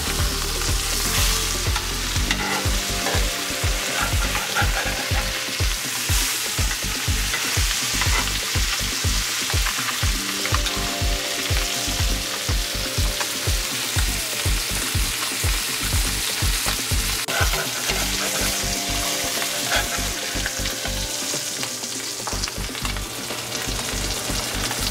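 Yellowtail snapper fries in a pan after being flipped, giving a loud, dense, continuous sizzle with rapid crackling and popping close up throughout.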